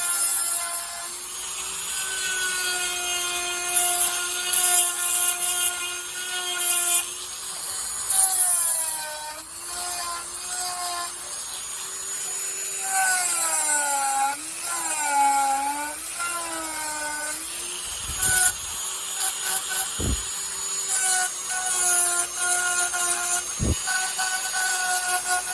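A rotary tool bit carving a wood spirit face into wood, a high whine that bends in pitch as the bit presses and lifts, with grinding rasp and a few short pauses.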